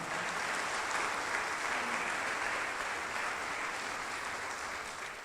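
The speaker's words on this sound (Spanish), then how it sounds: "Ofrécele un aplauso entonces al Señor, por favor, de alabanza" A church congregation applauds in praise, a steady, even wash of many hands clapping from start to finish, somewhat distant and with no talking over it.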